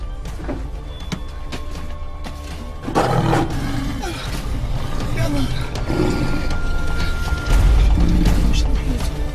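A lion roars loudly from about three seconds on, swelling in repeated deep bursts against a busy background of chatter and mechanical hum during a jungle-themed comedy show.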